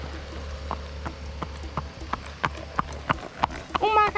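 A three-year-old mare walks outdoors at dusk, her hooves clip-clopping in a steady, fairly close rhythm over a low background hum, with a brief horse snort or whinny near the end.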